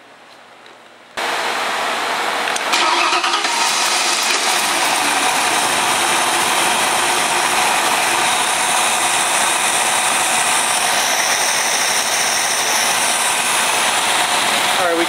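A Ford engine cranks and catches after about a second of quiet, then runs steadily and loudly at a close, even idle with a faint mechanical ticking throughout.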